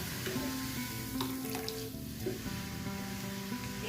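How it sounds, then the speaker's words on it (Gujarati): Spicy gram-flour sev fries in hot oil until crisp, a steady soft sizzle and bubbling close by with faint occasional stirring clinks, no talking. "બંને સાઈડ એકદમ ક્રિસ્પી થાય ત્યાં સુધી તળી લઈએ।"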